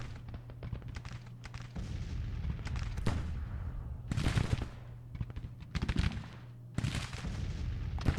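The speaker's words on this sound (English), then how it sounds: "It's the Williams guns opening up." Civil War rifle volleys and artillery fire in a strategy video game, with sustained crackling gunfire and repeated heavy booms rolling through, loud and continuous.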